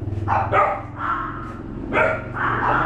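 A dog barks loudly and close, several sharp barks in quick succession with short gaps, no other sounds around it.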